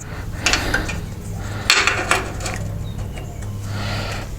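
A metal clamp is fitted onto the jack screw of a bandsaw in a workshop, giving a few close, sharp knocks and scraping clicks over a steady low motor hum, with no talking.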